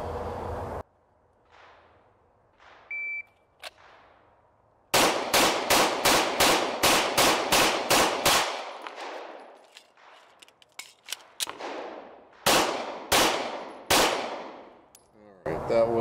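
Rapid pistol gunshots from a PSA Dagger handgun on a timed shooting drill, a tight string of about ten sharp, loud reports, then a pause for a reload and a few more spaced shots, with clinks and ringing between.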